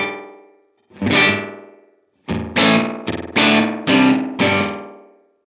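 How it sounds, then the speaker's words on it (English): Distorted electric guitar chords ring through a Line 6 Helix slapback delay set to high feedback, five or six loud stabs whose very fast repeats blur into a reverb-like wash, separated by brief silences. "it almost gives more of a reverb effect"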